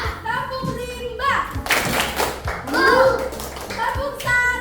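A classroom of children chants together and claps in rhythm during a 'tepuk rimba' clapping cheer before an ice-cream-making practical lesson, with sharp hand claps mixed into loud, close group voices.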